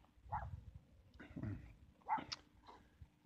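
Puppies yip and whimper in short, high bursts, several small cries scattered across a few seconds at close range with no talking.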